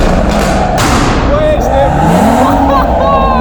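A BMW M140i hatchback with a pop-and-flame exhaust map revs loudly in neutral, its engine note rising and falling close by over a continuous rumble, with people talking over it.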